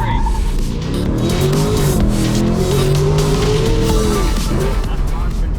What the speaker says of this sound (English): I'm going to floor the throttle and let go of the brake.